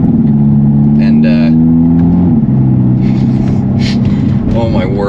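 Hyundai Elantra N engine pulling away from a stop and accelerating through gear shifts, a loud steady drone that rises, dips at each shift and climbs again, with someone talking over it.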